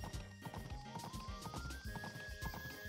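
A horse in the farming game Story of Seasons: Pioneers of Olive Town, with steady clip-clop hoofbeats and a brief whinny over soft game music.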